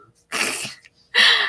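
Two sharp sneezes, close and loud, separated by a short pause, with no talking around them.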